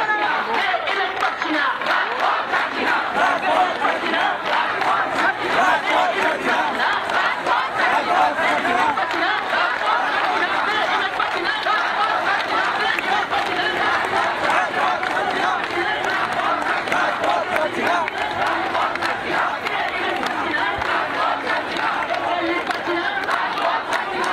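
Dismissed teachers chant slogans during a street protest march from Karunamoyee to the SSC building. A large crowd shouts in steady, rhythmic unison, with a constant roar of voices that carries on without a break.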